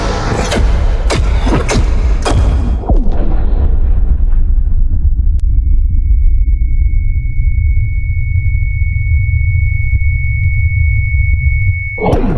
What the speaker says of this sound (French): Explosion de l'astéroïde effectuée.